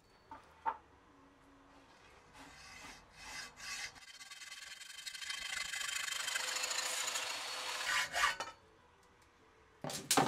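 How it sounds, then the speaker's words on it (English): A length of square steel tube is sawn, with a few scattered knocks and scrapes before a sustained rasping cut builds over several seconds, close by and fairly quiet. "Now we can get started by cutting all the needed pieces of square steel tube to length."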